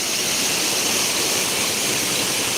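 Water rushes through the open gates of the Balachaur canal at the Satluj river headworks in Ropar, a steady, dense, close roar with no breaks and no voices.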